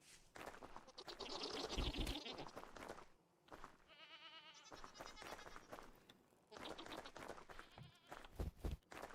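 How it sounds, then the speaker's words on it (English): Goat in the Vintage Story survival game bleating in a clear, wavering cry between stretches of people chatting, heard mid-clip and loud. "The god of goats just like bleated into our ears."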